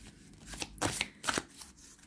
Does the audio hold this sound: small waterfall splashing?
no